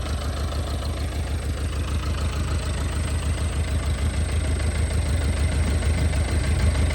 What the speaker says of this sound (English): That runs really well. There's no smoke coming out of it, nothing.